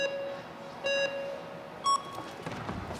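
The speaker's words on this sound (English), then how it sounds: "waiting for the beeps" Two short electronic start beeps about a second apart at a speed climbing final, over a low background hum, followed by a rising rush of noise.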